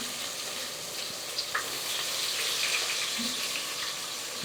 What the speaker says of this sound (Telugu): ఇట్లా వేసుకోవాలి ఆనియన్స్.